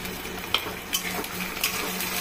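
Onions stirred in a frying pan for a Bengali kochur loti dish, a steady sizzle of frying with soft scrapes and light clinks of a utensil against the pan at intervals.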